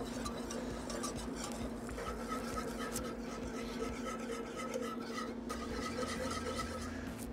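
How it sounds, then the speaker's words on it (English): Cream and milk being slowly whisked into a mac and cheese sauce in a pot, a continuous soft scraping and rasping stir with steady faint clinks, quiet and close. "we're just gonna slowly whisk this in until it's smooth and nicely combined"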